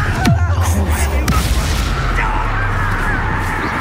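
A Confringo fire spell bursts in the game Hogwarts Legacy, a low booming blast near the start that rolls into a rumbling tail, with a spoken voice over it.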